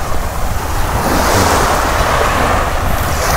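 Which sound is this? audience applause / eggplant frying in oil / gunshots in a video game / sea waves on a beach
sea waves on a beach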